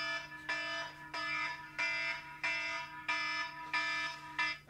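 A timer alarm beeps loudly in a steady repeating pattern of about seven bright electronic tones, each roughly half a second long with short gaps between, sounding alone without any talk.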